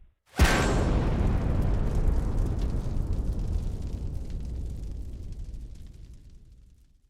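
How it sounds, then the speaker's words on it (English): Miniature film explosion slowed to slow motion: a sudden deep boom erupts into a long, dense rumbling roar that slowly fades away over several seconds, loud and with no voice. "There's some miniature explosions. Shot in slow-mo."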